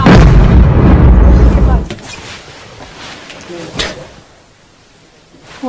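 A huge close blast in Kyiv during a live news report, a loud roaring rumble that fades over a second or two, followed by a sharper distant boom amid quieter ambience.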